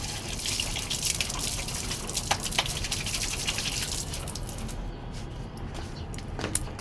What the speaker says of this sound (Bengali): আমার হাত ধুয়ে ফেলতে হবে ভালো করে।